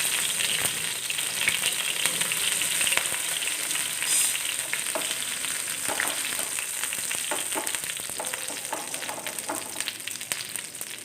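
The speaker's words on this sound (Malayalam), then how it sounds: "ഇനി നമുക്കൊരു പാൻ വെച്ച് ഇതൊന്ന് വറുത്തെടുക്കാം" Steady, loud sizzling of fish frying with curry leaves in hot oil in a pan, with scattered crackles and pops throughout and no talking.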